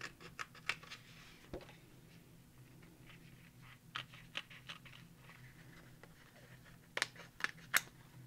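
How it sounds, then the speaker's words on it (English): Small scissors snip paper at a crafting table while acrylic-painted art journal pages are trimmed, producing a series of soft, close, irregular cuts over a quiet room hum. "Get my little scissors out."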